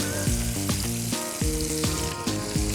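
Cuttlefish fry in olive oil in a pan with a close, steady sizzle, broken by a few rhythmic stirring or scraping strokes, no voices.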